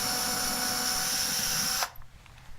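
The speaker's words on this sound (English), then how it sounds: "I'm going to drill an 1/8" pilot hole right through that spot." A power drill bores an 1/8 inch pilot hole with a steady high whine that stops abruptly near the end, followed by faint clatter and quiet.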